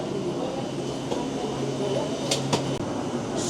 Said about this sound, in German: This train takes you to Gates E.